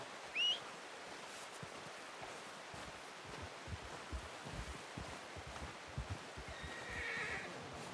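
A horse in Red Dead Redemption 2 gives a short, loud whinny near the start, followed by soft hoof clip-clops and rustling outdoor ambience.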